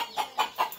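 A native country hen, bought as a local breed, clucks in four short, evenly spaced calls, fairly close and alone with no talk.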